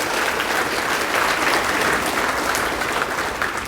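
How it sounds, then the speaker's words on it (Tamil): Dense, steady applause from an audience at an awards ceremony honouring achievers, sustained and fairly loud for the whole stretch with no talk over it. "நிச்சயமாக கைத்தட்டி நீங்கள் அவரை வாழ்த்த வேண்டும்."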